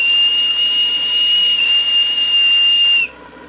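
A steam whistle on the model steamboat gunboat Fulgerul, fed from the safety valve's steam outlet, gives one long, loud, steady shrill blast with a hiss beneath it, then cuts off abruptly near the end.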